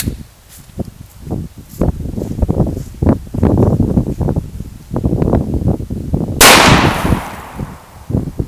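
Shots from a 5.7x28mm round fired at a target outdoors from about 30 feet, a series of sharp sharp cracks spaced irregularly, with one louder blast late in the clip.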